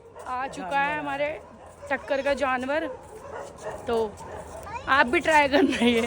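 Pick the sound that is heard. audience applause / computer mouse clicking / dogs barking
dogs barking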